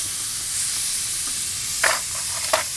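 Hot fat left from searing a steak is emptied from a pan: a steady close hiss and sizzle with two brief sharper splashes near the end, and no talking.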